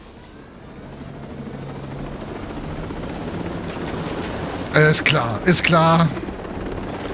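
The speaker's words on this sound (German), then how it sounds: "Komm, nehmen wir den Hubschrauber." Helicopter rotor and engine drone in the video game Ghost Recon Breakpoint, a steady whir swelling gradually while players talk over it in German.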